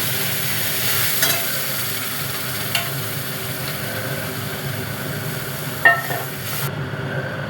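Home-ground spice paste from the mixer frying in a pan with melted tomato and chopped green chilli for a cauliflower rezala, a steady broadband sizzle with a few sharp clinks of a utensil, close and continuous with no talk.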